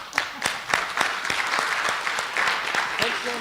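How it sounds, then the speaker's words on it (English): Audience applause after a panel talk on women's rights, sparse individual claps rising into a steady patter, moderately loud, with a few voices underneath. "More applause, please."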